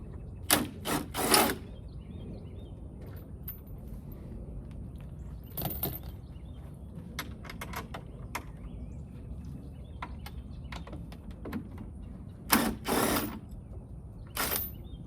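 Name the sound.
loosening bolts on a C8 Corvette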